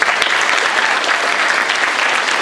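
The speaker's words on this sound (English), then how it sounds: "So let's give Trevor a round of applause." A lecture audience at a fisheries management talk applauds for Trevor, a loud, even roar of many hands clapping steadily throughout with no break.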